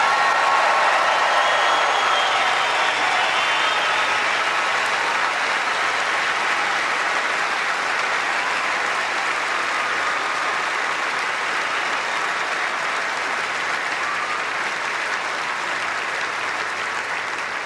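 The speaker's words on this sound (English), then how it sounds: "Let's thank and really give a warm round of applause once again to Ana Ivanovic." Steady, sustained applause fills a large tennis stadium after the Australian Open women's final, a dense wash of clapping from a big crowd that holds at full strength and only slowly eases.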